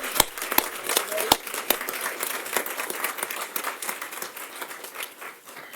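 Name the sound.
applause for a student award winner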